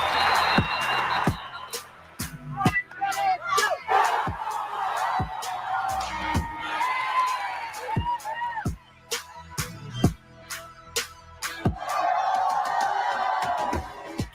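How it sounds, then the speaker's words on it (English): A crowd at a broadcast event cheers and whoops, loudest at the start and again near the end. A voice talks over the noise in between. "Keep the cheering going"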